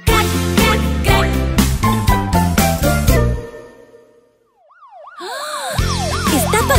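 A fire truck siren wails in rising and falling sweeps as it passes in a children's song. Bouncy music plays first, then fades before the siren comes in alone. The music then returns underneath the siren.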